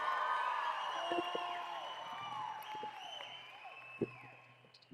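A church congregation cheers and whoops, with voices rising and falling in loud crowd noise that gradually fades, and a few sharp claps standing out near the end.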